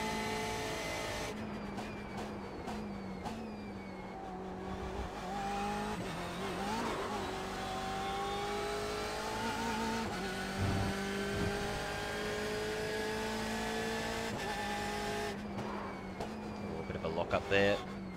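A BMW M8 GTE race car in the iRacing simulator drones steadily with its engine note rising and falling through gear changes on a cold track, continuous and close, with a brief burst of rapid clicks at the end.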